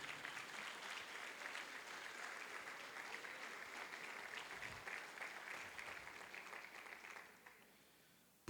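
A church congregation claps in sustained, dense applause, evenly loud for about seven seconds before tapering off at the end.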